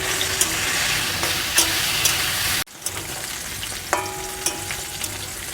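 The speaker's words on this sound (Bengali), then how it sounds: "ঢ্যাঁড়সগুলো ভেজে নেব। ঢ্যাঁড়সের মধ্যে একটু হলুদ দিয়ে দেব।" Okra frying in oil with turmeric crackles in a steady loud sizzle, broken by a brief cut and a few scraping stirs of the spatula, with no voices.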